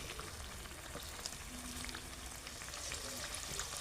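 Vegetable pitha frying in hot oil, a steady low crackling sizzle with faint spitting pops throughout, quiet and unbroken with no voices.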